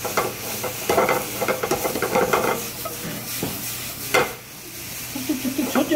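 Rice being stir-fried in an oiled pan for vegetable fried rice, with steady scraping and tossing and a continuous sizzle, close and fairly loud, including one sharper clatter partway through; no talking.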